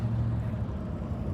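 A fishing boat motor idles on Lake Greenwood, giving a steady low rumble with broadband water and wind noise. It sounds close and continuous, with no talk.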